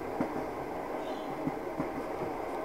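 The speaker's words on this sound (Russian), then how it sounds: "Под стук колес." Train wheels clack over rail joints on a long passenger rail journey, a soft rhythmic clickety-clack of a few evenly spaced knocks over a steady rolling hum, heard from inside the carriage.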